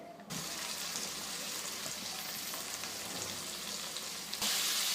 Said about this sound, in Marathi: आता चांगलं हे सर्व साहित्य आपल्याला परतवून घ्यायचं आहे तेलावर तेल सुटेपर्यंत